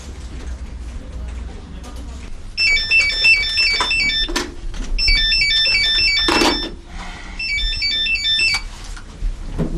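A phone rings in repeated electronic bursts, three ringing phrases in a row, with people talking and moving around in a hectic room, followed by a loud thump.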